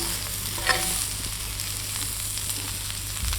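Beef fries in a pan with a steady, hissing sizzle while it is stirred now and then, a soft clink of a utensil early on over a low background hum, fairly quiet and without speech.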